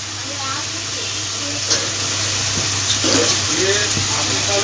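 Water poured into spice masala frying in oil for an aor fish kalia curry, a close hissing splash and bubbling that sits under someone speaking.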